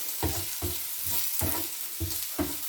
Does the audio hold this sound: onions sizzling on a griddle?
yes